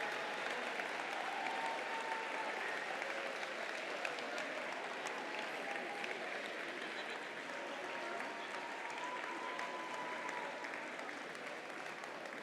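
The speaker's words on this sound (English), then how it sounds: "Please give a round of applause and thanks for all of these First alumni here today." Long, steady applause from a large audience at a FIRST robotics district event, honoring alumni, a continuous even clatter of many hands slowly easing toward the end.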